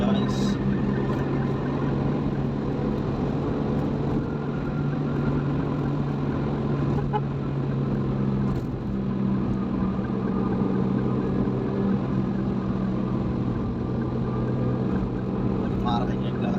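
A car rolls along behind on the Stabat–Belawan toll road toward the port, giving a steady engine and tyre drone with a constant low hum throughout, while people talk over it.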